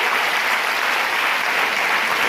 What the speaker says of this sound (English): So okay, a round of applause for him.